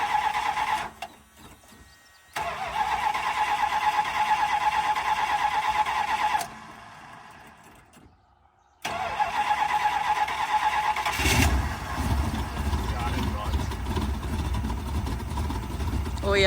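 An old, blown-up Newport car engine cranks and catches, running rough and loud close by, with breaks where it cuts out and restarts, then a heavy low rumble builds near the end; people talk around it.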